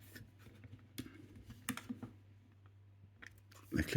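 Hazard switch buttons on a 2009 Mk7 Ford Fiesta click in a handful of quiet, sharp plastic clicks at irregular intervals over a low background hum, close by.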